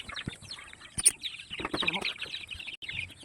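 Month-old free-range chicks from a second batch on a chicken farm, clucking and peeping in a busy overlapping chorus with a brief flurry of wing flapping, close by.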